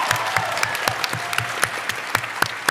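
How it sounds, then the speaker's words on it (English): An audience claps in a theatre panel session at the PAX West 2024 gaming convention, giving a short burst of dense, steady applause that sounds fairly close, with no voices over it. "Everyone applaud."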